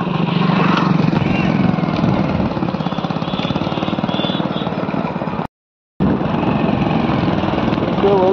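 A motorbike engine runs steadily and close by on a village road near flood-affected ground, a continuous rough drone that cuts out briefly near the end before resuming.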